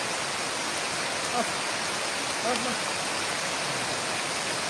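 Heavy rain pours steadily at night as a ghost-hunting group moves through it, a dense, even hiss filling the whole clip while people talk faintly underneath.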